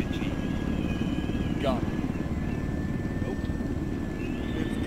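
Helicopters idling in a military video game, a steady, loud rotor and engine drone that continues throughout, with a short spoken word over it.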